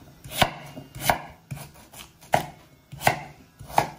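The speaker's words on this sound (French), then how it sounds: "Après, on va couper notre patate douce." A knife chops through sweet potato on a board in five crisp, evenly spaced strikes about two-thirds of a second apart, close and clear with no talking.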